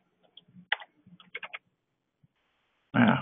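Short bursts of typing on a computer keyboard: a few quiet isolated clicks, then a quick cluster of keystrokes in a quiet room, followed by a brief louder noise at the end.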